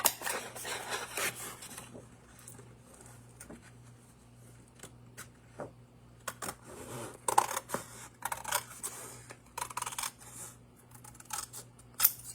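Scissors cutting through a Christmas card, heard as a series of close, crisp snips and paper rustles in short bursts, with quieter gaps in between in a calm indoor room.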